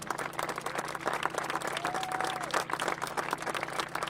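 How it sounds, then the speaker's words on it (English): Audience applause at a public event on renewable energy and climate action, a steady burst of clapping from a crowd lasting a few seconds. "Let's give our officials a round of applause."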